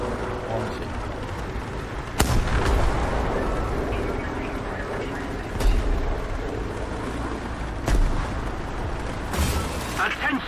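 Artillery fire in a World War II tank battle video game, with several heavy booms landing at intervals over a dense rumbling battle backdrop while a player talks throughout.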